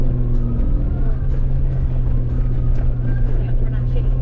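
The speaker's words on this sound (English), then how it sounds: "A little downshift." Off-road vehicle engine drones steadily on a dirt trail during a poker run, with a brief downshift under constant wind buffeting and nearby talk.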